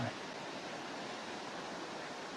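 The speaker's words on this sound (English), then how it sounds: "I think if I turn it on, you'll hear water or whatever." Faint, steady wash of water waves near a surf spot, a soft continuous broadband hiss with no distinct breaks or voices.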